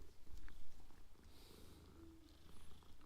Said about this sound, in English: See the kitty, pet the kitty.